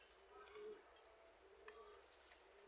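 Pigeons on a rooftop at night, a parent feeding its chicks, giving soft low coos alongside faint high chirps from the young birds, fairly quiet and close, with no speech.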